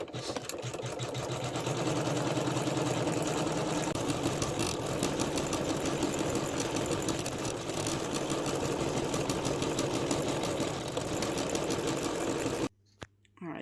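An MC9900 embroidery machine stitching an Easter basket design, a loud, rapid mechanical chatter running steadily for about twelve seconds before stopping abruptly, followed by near silence and a short restart.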